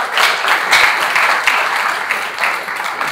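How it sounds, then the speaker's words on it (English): A business audience at a branding and marketing talk breaks into lively applause, a full and even patter of many hands that swells and ebbs slightly over a few seconds. "I think he deserves a round of applause to him and his team."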